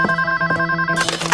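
Electronic telephone ringtone trilling steadily at close range for just over a second, with a brighter burst of ringing toward the end.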